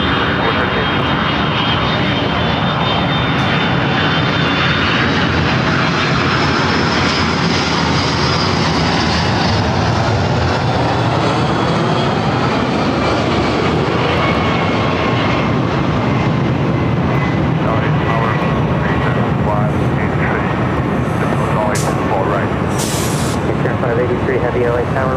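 Jet airliner roaring down the runway on takeoff at LAX, a loud sustained engine roar that swells and shifts in pitch across the whole stretch, with air traffic control radio talk over it.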